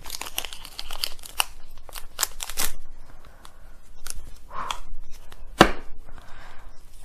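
A Pokemon TCG Sword & Shield booster pack being ripped open, with scattered crinkling foil and a few sharp tearing bursts across several seconds, close and fairly loud.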